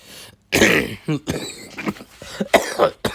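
A man coughs several times in a podcast setting, giving harsh, close bursts separated by short gaps.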